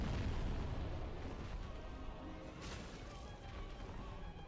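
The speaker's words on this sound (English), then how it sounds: "Okay, explosion." In the video game Dark Souls, an explosion erupts in a broad, heavy boom that rumbles loudly at first and slowly fades into a lingering roar.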